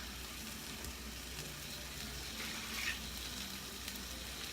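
Paella rice simmering in its juices in a wide pan, a soft steady bubbling and sizzling hiss, quiet and continuous with no talk.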